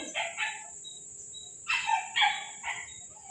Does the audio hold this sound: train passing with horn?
no